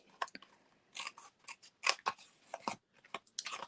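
Scissors trim overhanging paper during a papercraft project, a quick series of crisp snipping cuts in uneven bursts, close and fairly quiet.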